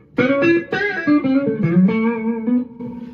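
Electric guitar playing a few chords and notes through an amp's spring reverb in a rehearsal space, with a washy, slightly distorted tail ringing behind each strum.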